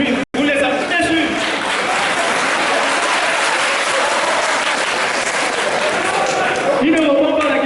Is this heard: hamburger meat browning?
no